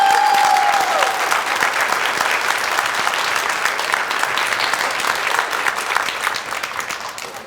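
Audience clapping loudly at a Boys & Girls Club Hall of Fame ceremony in Nashua, New Hampshire, a sustained dense round of applause that starts full and gradually tapers toward the end.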